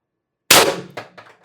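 A single sharp shot from an IntruBuster Gen 2 air-powered launcher firing 6-gram ammunition, a loud abrupt crack followed by two quicker, fainter echoing clatters, with no talk.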